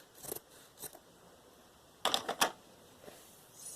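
Scissors cutting fabric scraps for junk journal covers and needle book covers: a few quiet, crisp snips spread out over a few seconds, with a tight cluster of sharper cuts in the middle and no talk.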